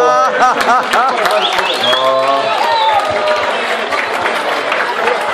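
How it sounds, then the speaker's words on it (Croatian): A crowd at a fishing contest applauds the competitors, dense steady clapping and cheering held at a loud, even level under a busy outdoor hubbub. "Molit ću vas jedan veliki aplauz za takmičare"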